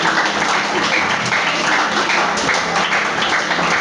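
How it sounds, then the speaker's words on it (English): Dense, sustained applause from an audience at a book event in Osapa London, loud and continuous with no gaps, like many hands clapping together in a room. "A round of applause for her."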